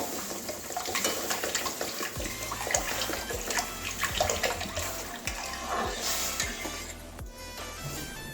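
Water pours steadily into a cooking pot of mung dal and papaya set on a lit gas stove for boiling, a continuous close splashing rush lasting several seconds before cutting off.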